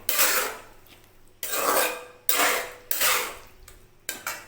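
Mixed vegetable kootu stirred in a pot, with repeated scraping strokes of a metal spoon against the pan, five or six rasping sweeps in a loose rhythm, fairly close and loud.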